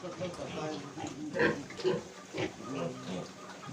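A pig grunts in short, low snorts, with voices and splashing water mixed in.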